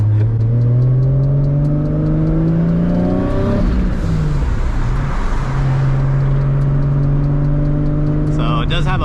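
A JZ-engined Nismo with an open dump revs hard on the road, the engine note climbing and falling under turbo whoosh, with hiss from the wastegate and blow-off valve as the revs drop and a brief flutter at the end.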